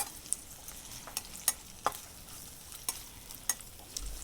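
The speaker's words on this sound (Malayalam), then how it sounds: "വെളിച്ചെണ്ണ കുറച്ച് ഒഴിച്ച് നമ്മളിങ്ങനെ ഫ്രൈ ആക്കിയാൽ മതി ഇത്" Chicken frying in coconut oil with curry leaves, pepper, chili and turmeric, a close steady sizzle broken by sharp spatula taps and stirring clicks at irregular intervals.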